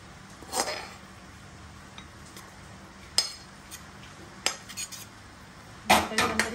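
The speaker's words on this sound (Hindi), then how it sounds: "इसे हम सर्विंग बाउल में निकालेंगे" A spoon clinks against a pan and serving bowl while cauliflower sabzi is dished out, giving a few sharp, close metallic taps spread over a quiet background.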